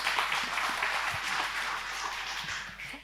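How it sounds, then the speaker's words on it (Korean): A church congregation applauds, a continuous wash of many hands clapping at moderate loudness in a reverberant hall, steady for a few seconds before easing slightly at the end. "박수로 한번 격려해 주세요"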